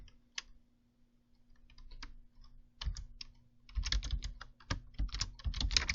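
Typing a folder name on a computer keyboard, sparse clicks at first that build into a quick, close run of keystrokes.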